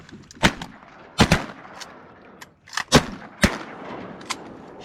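Shotgun blasts ring out during a duck hunt, about six sharp, loud reports in quick pairs and singles, each with a short echoing tail over quiet outdoor background.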